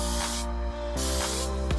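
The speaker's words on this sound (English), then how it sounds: "So I also like to layer session spray on it." Setting spray hisses from an aerosol can onto hair in a few bursts, each lasting around half a second, close and fairly loud, with a steady tonal hum running underneath.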